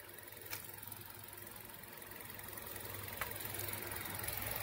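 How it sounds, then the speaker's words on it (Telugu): A petrol 2024 Maruti Suzuki Swift VXI idles quietly, giving a faint, steady low hum under a soft broadband hiss, with no voices. "ఇంజన్ ఆన్లో ఉంది, ఆఫ్ చేసి లేదు, ఆన్లో ఉంది. ఎందుకంటే పెట్రోల్ బండి కాబట్టి ఇంత సైలెంట్గానే ఉంటుంది."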